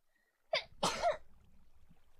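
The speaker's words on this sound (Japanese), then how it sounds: "あ、くしゃみ出そう。" A single close sneeze, with a quick sharp intake followed by a louder burst, breaks through near-silence, then only faint room noise remains.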